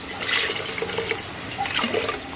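Water pours steadily into a pot of thick lentil dal to loosen it, giving a continuous close splashing rush with no speech.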